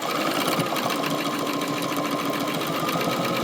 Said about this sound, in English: I'm going to use the same setting on my sewing machine, a -3.